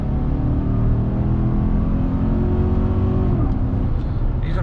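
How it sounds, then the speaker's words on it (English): A pickup truck's engine roars loud and steady with intake noise, one sustained rev that drops in pitch near the end, with no talk over it. "Some of that intake sound."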